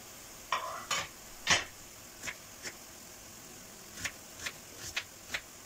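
Ground beef mince sizzles softly in a pan while a utensil scrapes and taps against it in scattered strokes.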